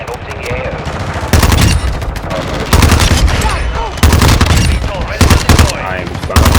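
Rapid automatic fire from the TR-76 Geist rifle in Call of Duty Modern Warfare 2: loud, dense bursts of gunshots in several strings with brief gaps, over a busy game soundscape.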